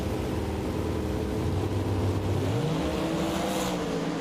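NHRA drag race cars launching side by side at Sonoma, a loud sustained engine roar with a rising pitch sweep as the cars pull away, steady and close without a break.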